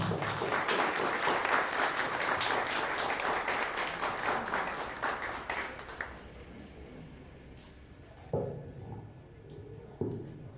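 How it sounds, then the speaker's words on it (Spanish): An audience at a book presentation in Taxco applauds to welcome a speaker, a full burst of clapping that fades after about six seconds, leaving a few faint sounds and room noise. "Recibamos pues con un aplauso"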